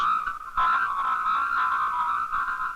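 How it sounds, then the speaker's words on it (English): A garbled, squeezed voice signal warbles in a narrow nasal band, continuous and unintelligible, sounding like distorted speech over a telephone line. "A squeezed message sounds like this."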